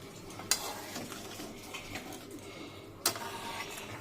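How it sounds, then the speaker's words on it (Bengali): Chicken curry with coriander being stirred in a pan: a soft simmering bubble underneath, broken by two sharp scraping knocks of a utensil against the pan, close by and without speech. "এটা ভালো করে মিশিয়ে দেবো।"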